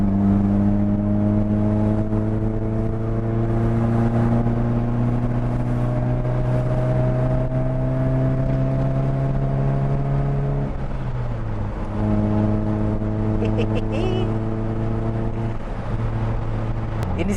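A BMW 318i E30 cruises on a highway at about 80 to 100 km/h, its engine holding a steady, loud droning hum with a brief dip as it shifts partway through, then settling back into the same even tone.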